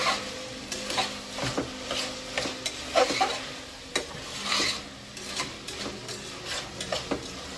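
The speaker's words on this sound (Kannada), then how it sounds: "ಉಪ್ಪು ಹಾಕೊಂಡ್ರೆ ಸ್ವಲ್ಪ ಜಲ್ದಿ ಫ್ರೈ ಆಗ್ತಾವ ಚೆಂದಾಗಿ" Food for a country-style pulao frying in a pan with salt as a spoon stirs it, giving soft continuous sizzling broken by repeated scraping strokes, close and moderate.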